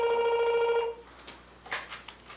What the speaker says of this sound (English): that's the phone's ringing in the background right now